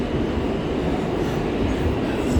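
A new A subway train rides along with a steady, loud rumble of wheels and car noise that holds constant from start to finish, with no voices heard.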